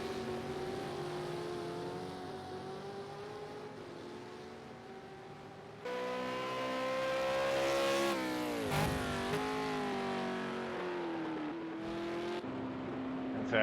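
V8 Supercar race cars in the pit lane at Bathurst's Mount Panorama, engines droning steadily then rising into a louder revving surge as cars move through, with no talk over the noise.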